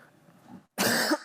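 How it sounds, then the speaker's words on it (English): A single loud, close cough breaks out after a short pause in quiet talk during a technical talk on Kubernetes, followed by a rough throat-clearing tail. "Sorry, I have a bit of a cough."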